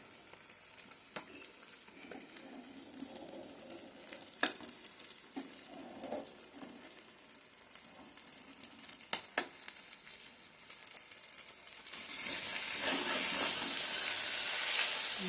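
Fish pieces frying in hot oil, a steady close sizzle with scattered pops and stirring clicks, swelling to a loud, dense hiss near the end.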